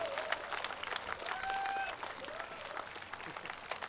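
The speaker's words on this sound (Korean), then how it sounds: "다시 한번 큰 박수 부탁드리겠습니다" A concert audience applauds after a three-tenor performance, broad sustained clapping from a crowd, with faint tonal sounds drifting over it.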